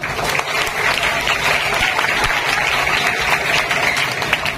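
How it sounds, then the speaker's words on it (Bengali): Students at a school applaud a visiting teacher, a dense, steady round of clapping from a group that holds evenly throughout. "আমি রিকোয়েস্ট করব সকলের জন্য একটা হাততালি দাও।"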